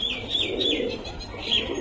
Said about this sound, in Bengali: পায়রাটা খুব ছটপটে, ধরা যাচ্ছে না